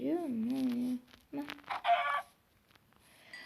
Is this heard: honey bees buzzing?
no